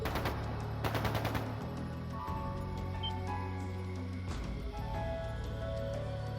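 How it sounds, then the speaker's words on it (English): Bursts of rapid gunfire crackle in The Legend of Heroes: Trails of Cold Steel II over a droning synthetic background with low rumbling tones, steady and fairly loud, no speech. "That sounded like gunfire."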